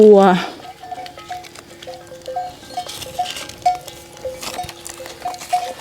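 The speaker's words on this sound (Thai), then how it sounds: "จะได้ยินเสียงกระดิ่งวัวครับ เพราะว่าเราอยู่ป่าหญ้าเลี้ยง" Cowbells on grazing cows clank irregularly in the distance, small metallic knocks scattered over an outdoor grassy pasture with light background noise.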